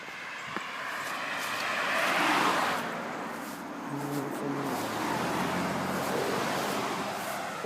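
Cars pass close by on a narrow rural road along the route from Mudd's to Swann's in Maryland, with engine and tire noise swelling and fading in overlapping sweeps.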